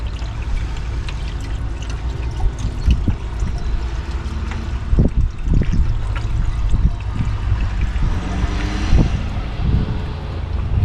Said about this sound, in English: So we're gonna dump 5 gallons of coolant in here.